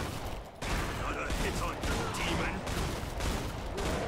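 Rapid pistol shots from the Gunslinger class in Killing Floor 2 crackle in a fast, dense string for about four seconds, loud and close, with a brief pause near the start and game noise mixed in.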